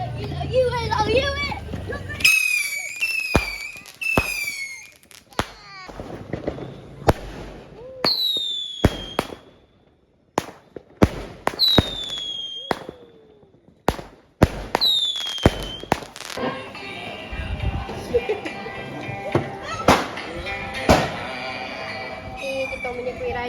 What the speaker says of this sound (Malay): semalam ni kita tengah main bunga api